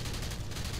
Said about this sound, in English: This plane has a 20mm cannon, and this is pretty handy versus other fighters